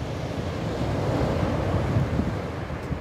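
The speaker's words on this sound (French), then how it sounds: "regardez, on a des superbes vagues là" Ocean surf rolling in at Anglet on the Basque coast, a steady broadband roar of breaking waves mixed with gusty wind buffeting the microphone, continuous for the whole stretch with no voices.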